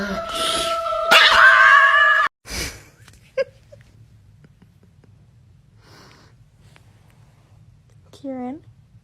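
Dogs whimpering and howling, with a loud squealing yip and howl burst near the start, a short snort, then quiet with a rising whine near the end and a voice talking between.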